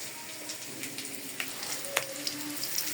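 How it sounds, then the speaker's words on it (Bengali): Garlic frying in a pan for a greens and vegetable dish, giving a steady close sizzle with scattered sharp pops and crackles and no talk. "রসুনটা ভাজা হয়ে গেছে,"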